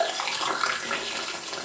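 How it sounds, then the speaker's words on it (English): Hot water pouring straight down a blocked sink's plug hole, a steady close splashing gush with no speech. "I'm going to pour this directly down the plug hole."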